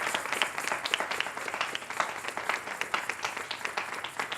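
Applause for small children at a cultural event, a steady patter of many hands clapping at moderate distance, continuous and fairly even throughout with no voices standing out.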